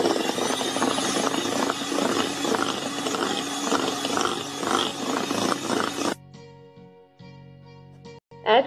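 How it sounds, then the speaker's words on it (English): An electric mixer whisks Christmas fruit cake batter with orange and lemon zest, a steady close whirring buzz that stops after about six seconds, leaving quieter kitchen sounds. "Whisk it again."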